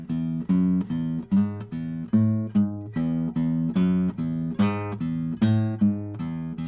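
Electric guitar playing a repeating low riff of plucked notes in a steady, chugging rhythm with occasional higher accents, clear and close with no voices.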